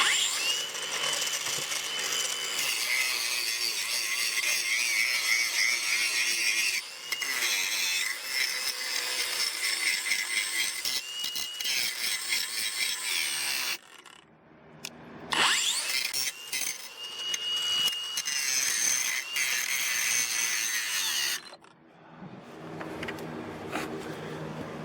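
Ryobi brushless cordless angle grinder with a Ryobi disc, running on a nine amp hour battery, whining loudly under heavy load with the pitch sagging and surging and briefly dropping out, as if near stalling, before spinning up again.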